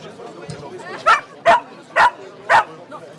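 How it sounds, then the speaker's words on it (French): Four sharp, evenly spaced dog barks close by, following a soft whimper, with a short pause between each bark. "alors là, il y a un chien"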